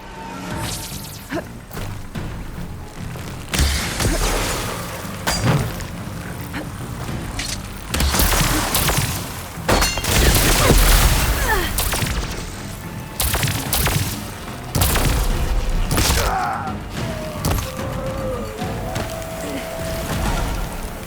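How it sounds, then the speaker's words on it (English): Heavy crashing impacts and whooshing hits as a machine's shield is smashed apart in the action game Horizon Forbidden West, loud irregular blows and thuds amid battle effects, with brief character voices in between. "I'm gonna break that shield!"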